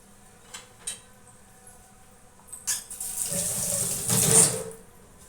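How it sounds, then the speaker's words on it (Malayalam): A few soft clicks and knocks, then a stream of water runs and splashes loudly into a cooking pot for a couple of seconds before fading. "ശേഷം വെള്ളം ഒഴിച്ച് കൊടുക്കുക"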